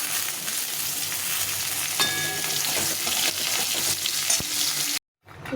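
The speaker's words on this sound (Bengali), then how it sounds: "জিরে তেজপাতা দিয়ে প্রথমে আলু সেগুলো ভেজে নেব" Potatoes fry in hot oil with chilli, cumin and bay leaf, a loud steady close-up sizzle with occasional stirring clatter, ending in a brief cut to silence before the sizzling returns.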